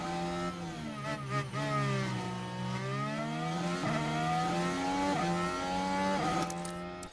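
Formula One cars in F1 Manager 23 at Baku scream past in an overtake, several engines whining and shifting pitch up and down as they accelerate close together, loud and continuous with no talking.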